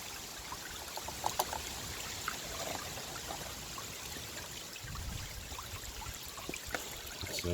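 Water runs steadily through a gold sluice outdoors, a continuous close wash with small splashes and trickles throughout, no voices.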